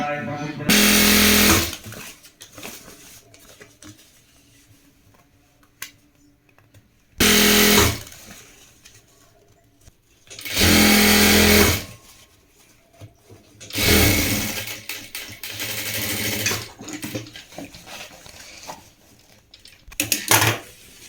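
A sewing machine stitches elastic onto shorts in several loud, steady bursts, with someone talking in the quieter gaps between runs.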